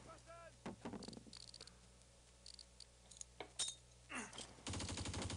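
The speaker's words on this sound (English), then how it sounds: "Hand grenades going off." Hand grenades exploding in the Close Combat video game, Crete battle, heard as scattered sharp bangs and crackling gunfire-like bursts over a low steady hum, ending in a denser, sustained volley of blasts.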